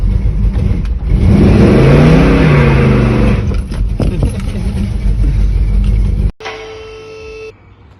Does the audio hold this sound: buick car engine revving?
yes